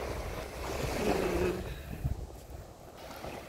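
Sea waves washing ashore at Puerto del Carmen on Lanzarote, a steady broadband surf wash with some wind rumble on the microphone, fairly close and continuous, easing slightly near the end.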